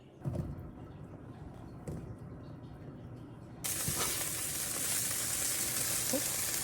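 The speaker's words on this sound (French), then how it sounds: "Je vais envoyer cuire mes bouts de halloumi dans une poêle que j'ai préchauffée à feu moyen" Halloumi pieces dropped into a pan preheated over medium heat break into a loud, steady sizzle partway through, following quieter kitchen handling noises.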